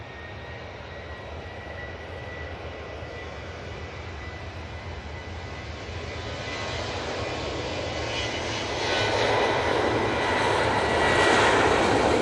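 A Ryanair Boeing 737 takes off from Manchester Airport for Porto, its jet engines building from a steady rumble into a louder, rising roar with hissing high whine, alone without voices.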